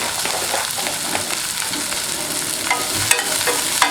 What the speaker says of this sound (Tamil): வெங்காயம் கொஞ்சம் டிரான்ஸ்பரண்ட் ஆக வரைக்கும் வதக்கிக்கிடுவோம்